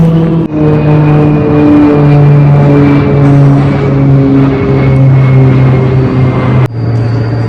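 A propeller airplane drones loudly overhead, a steady, rumbling engine tone with shifting pitch that holds throughout without speech.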